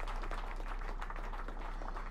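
Steady synthetic clapping and applause from the Roblox game Fashion Frenzy, quiet and continuous for a couple of seconds with no voices over it.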